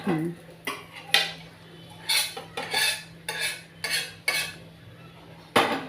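A ragi dosa is lifted off the pan with a metal spatula, making a series of sharp scraping strokes against the pan's surface with a low steady hum underneath, close and clear.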